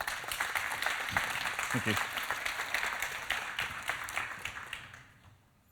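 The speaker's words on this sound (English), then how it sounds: "I really, really like the way everyone applauds before I speak." Audience applause at a conference talk as a speaker is welcomed to the stage, steady sustained clapping from a large room that fades out at the end, with a brief spoken thanks over it.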